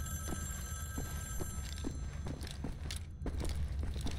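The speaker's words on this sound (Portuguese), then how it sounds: "Aqui o telefone tocando." Telephone ringing in Wolfenstein The New Order: a steady high electronic ring held for most of the clip, over a run of regular footsteps and clacks in a busy background.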